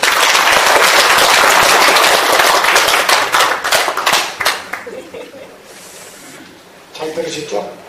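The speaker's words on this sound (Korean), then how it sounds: "다시 한번 뜨거운 박수 보내주시죠" Lecture audience in a National Assembly academic conference hall applauding, a dense, loud wash of clapping that thins into scattered claps and fades, with a voice speaking over the tail end.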